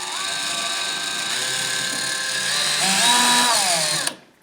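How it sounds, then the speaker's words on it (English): A power drill boring a hole into ceiling drywall while recessed lighting is installed, a steady whirring motor whine with shifting pitch that runs for about four seconds, close and loud, then cuts off abruptly. "We're just going to drill another one here."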